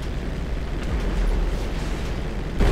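Rocket explosion in Grand Theft Auto V, a loud, sustained rumbling roar with a fresh burst at the very end, heard without talk.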